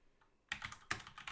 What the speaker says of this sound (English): I'm just typing and pressing enter